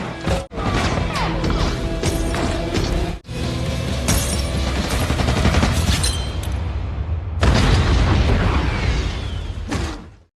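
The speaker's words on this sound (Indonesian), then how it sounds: "kemudian dengan nekat mendatangi Julian dan meledakkan bomnya tepat di hadapan Julian." A bomb explosion in an action film scene: a chaotic, sustained barrage of loud blasts, crashes and bursting debris lasting about ten seconds, with two brief dips in the noise.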